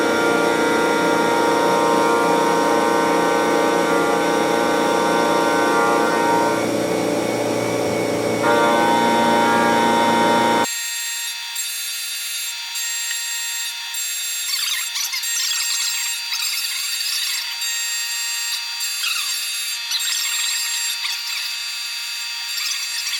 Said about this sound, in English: face off the bottom side of this piece, get it down to our base thickness